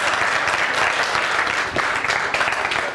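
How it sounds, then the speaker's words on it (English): A church audience at a healing conference applauds a youth pastor with steady, dense clapping that fills the whole stretch, loud and close, with a brief lull partway through. "Could you please give him a hand clap?"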